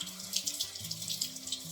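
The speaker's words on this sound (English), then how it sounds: "Let me wash my hands while I talk to you." Steady running water from a kitchen tap while hands are washed, a continuous hiss with soft splashing under faint background music.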